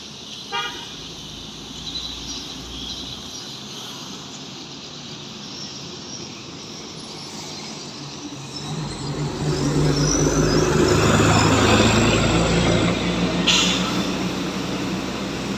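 A Kurnia intercity bus passes by on a roadside in Aceh with a brief horn toot at the start, then a growing engine roar and rushing wind that peaks and fades as it goes by.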